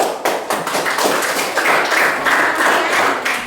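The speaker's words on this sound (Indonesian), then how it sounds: "Nah, Tepuk tangan." Students in a classroom clap in response to the teacher, a loud, continuous patter of hands with a few sharper individual claps standing out.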